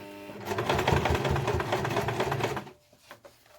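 A sewing machine stitches a seam through layered fabric on a messenger bag, giving a fast, steady mechanical chatter that runs for over two seconds before slowing and stopping, close by with no talk.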